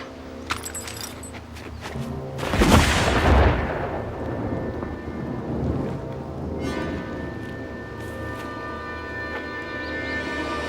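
A gun firing in a dramatic action scene from a Hindi-dubbed South Indian film, with one loud booming blast around the middle that rolls into a rumbling decay over a continuous bed of film score and background noise.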